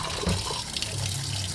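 Cold water running and splashing from a tap, a steady close rush of liquid with no talking.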